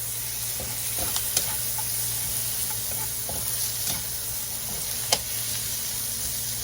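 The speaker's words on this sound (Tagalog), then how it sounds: "Haluin lang po natin for 20 seconds lang po." Pork being stirred in a frying pan for a tomato-based Filipino dish, a steady sizzle under scattered scraping clicks of the spatula, with one sharper knock near the end, close and moderately loud with no voices.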